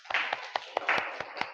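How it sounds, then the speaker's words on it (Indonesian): A classroom group clapping together in brief applause, a dense, close burst of handclaps with uneven beats. "Tepuk tangan untuk kita semua"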